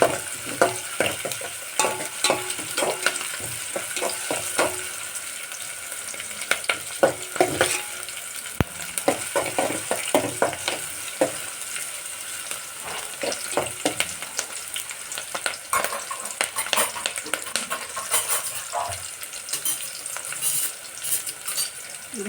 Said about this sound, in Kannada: ಈಗ ಪಾತ್ರೆಗೆ ನಾನು ಈರುಳ್ಳಿನ ಹಾಕಿದ್ದೀನಿ